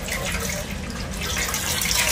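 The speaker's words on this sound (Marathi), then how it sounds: "आता हे 2-3 पाण्यात धुवायचं ना परत" Ambadi (roselle) leaves are swished in a vessel of water, giving a steady close sloshing and splashing wash of water sound with no talking.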